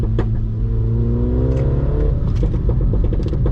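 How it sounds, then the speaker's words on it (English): A Mini John Cooper Works engine revs up loudly, pitch climbing over a couple of seconds, followed by rough burbling and pops as it settles. "when I listen to this car and it just makes noises"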